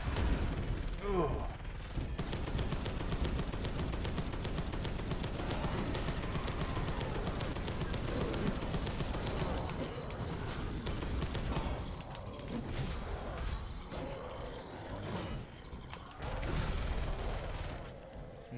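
Cannon blasts and gunfire from a Warhammer video game battle, a dense, continuous barrage of shots and explosions filling the scene, with a voice briefly heard over it.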